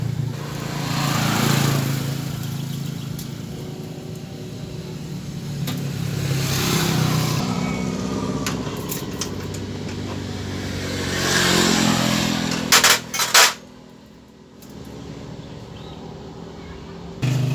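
A loud, rough-running engine idling and rising and falling in revs, close and continuous, with a few sharp knocks near the end and then a brief drop in level.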